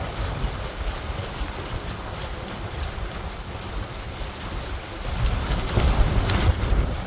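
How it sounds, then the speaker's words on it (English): Strong headwind on a boat cruising the Trent-Severn Waterway between Buckhorn and Bobcaygeon roars across the microphone in steady gusts, with splashing water and a low rumble that swell louder near the end, with no talking. "So the wind is really picked up now and heading right into it"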